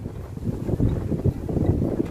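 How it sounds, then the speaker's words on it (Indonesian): Strong wind gusting through a home vegetable garden, a steady low roar buffeting the microphone with rising and falling surges, no other sounds standing out. "Tuh angin banget."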